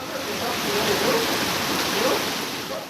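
Strong floodwater current rushing down the main avenue of Mineiros after the city was flooded, a steady broadband roar of churning water held close and loud from start to finish.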